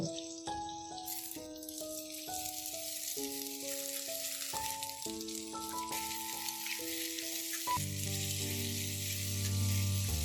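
Ivy gourd and green chillies frying in a pan, a soft sizzle running under melodic background music that dominates, without talk.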